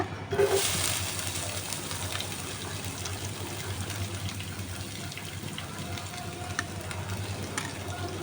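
Onion frying in hot oil with spices, a burst of louder sizzle at the start as it goes in, then a steady, even hiss with occasional small pops and clinks.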